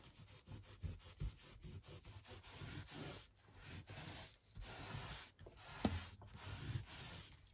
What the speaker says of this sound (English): We'll just take off any ink that is sitting on top of your embossing to make it shinier again.